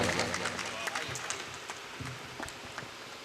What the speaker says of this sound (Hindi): जोरदार तालियों से आप आमंत्रित कीजिए आदरणीय मासूम गाजियाबादी